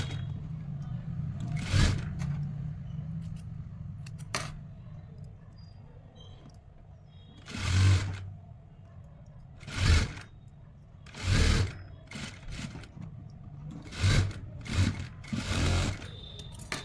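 Short bursts from a sewing machine stitching a baggy-style winter shirt, each a close rapid whir lasting about a second, spaced irregularly between quieter stretches with light rustling and handling.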